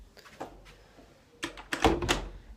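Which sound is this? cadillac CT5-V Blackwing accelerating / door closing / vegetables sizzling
door closing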